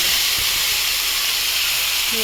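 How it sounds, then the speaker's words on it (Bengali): Onion and tomato paste dropped into hot oil in a wok for a mustard fish curry, an intense loud hissing sizzle that holds steady and close throughout. "পেঁয়াজ টমেটো পেস্টটা দিয়ে"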